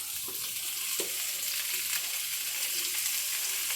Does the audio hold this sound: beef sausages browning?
yes